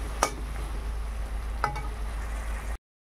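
Tomato masala fries in oil with a soft, steady sizzle, broken by two sharp clicks of a spoon against the pan, close up with no talking, and ending in abrupt silence.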